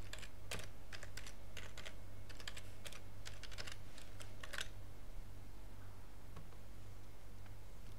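Quick bursts of clicking keystrokes on a computer keyboard for about four seconds, close and crisp over a low steady hum, then only faint scattered taps.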